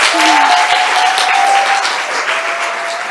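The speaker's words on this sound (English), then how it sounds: "Can we give them one more big round of applause?" Audience at a WE Stand Together launch event applauding, loud sustained clapping from a large crowd filling the whole stretch, with a few faint voices and whistle-like tones mixed in.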